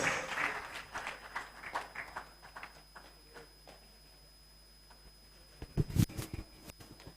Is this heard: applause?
yes